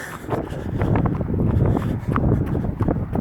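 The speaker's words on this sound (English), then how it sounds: "It's also very windy out here." Strong wind buffets the microphone outdoors on an open stretch beside a running track, a loud continuous roar with gusty surges and some thumping footsteps underneath.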